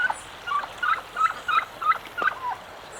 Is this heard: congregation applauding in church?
no